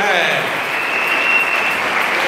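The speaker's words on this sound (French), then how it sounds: "Give it up for the church," A church congregation at a full gospel service applauds and cheers loudly and steadily throughout, a dense wash of clapping with voices mixed in.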